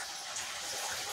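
Water running out and gushing in a steady, broadband rush, quiet and continuous with no voices.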